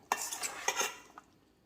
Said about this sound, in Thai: ใส่ทุกอย่างลงไปเลยนะคะ แล้วก็คลุกเคล้าส่วนผสมให้เข้ากันดีค่ะ